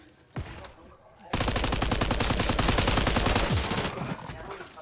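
Rapid automatic gunfire in a video game: a single sharp shot, then a loud, sustained burst of evenly spaced rounds lasting a few seconds before tapering off.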